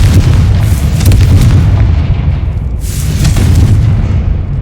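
A loud Confringo fire spell blast in Hogwarts Legacy, a deep booming explosion that rolls on and swells again, heavy and close with no talking.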